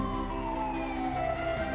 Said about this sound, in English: A fire truck!